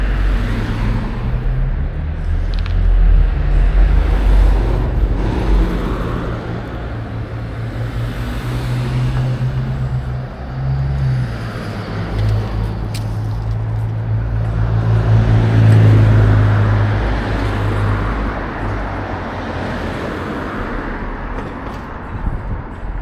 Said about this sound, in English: Cars won't stop coming.